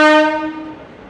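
A train hauled by a WAP7 electric locomotive at Dadar railway station, Mumbai, sounds one loud, close horn blast with a rich harmonic tone that fades away over about a second, with no talk.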